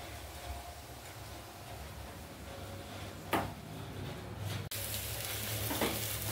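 Grated coconut roasts in a hot pan for chutney, giving a steady soft sizzle and crackle with a few sharp stirring scrapes and a clunk near the end.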